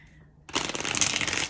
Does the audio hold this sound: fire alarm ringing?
no